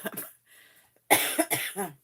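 A person coughs sharply a few times in quick succession, close and loud, with a throaty rasp between the bursts.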